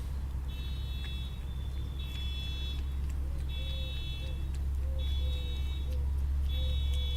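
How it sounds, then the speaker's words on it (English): Car alarms go off at a distance in a city setting, repeating electronic beeps and warbling tones in regular bursts over a steady low traffic rumble while someone talks nearby. "I got car alarms going off here in the background."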